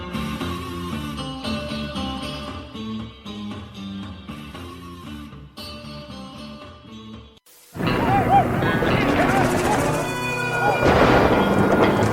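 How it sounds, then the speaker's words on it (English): A thunderstorm sound effect in a radio advert: after a stretch of music, a sudden crack of thunder breaks into a rolling rumble with steady rain, loud and sustained, while voices speak over the storm. "reckon a storm's a brewing"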